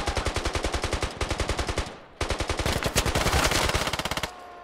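Rapid automatic gunfire in a Squad battle on the Fallujah map: two long bursts of closely spaced, loud shots, divided by a short pause, with no speech over them.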